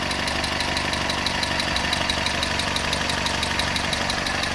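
A 1971 Datsun 521 pickup's engine idles steadily up close, a continuous mid-pitched running hum with a fine, even mechanical ticking that stays loud and unchanging throughout, with no voices.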